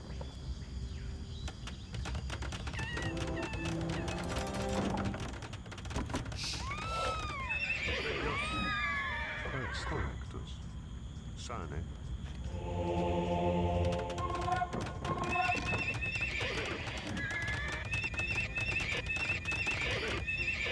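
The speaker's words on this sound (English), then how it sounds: "Oh my god, the horse noises." Horses whinny repeatedly in a video game over a steady bed of hooves clip-clopping, the neighs overlapping and coming from several animals in a busy, continuous scene.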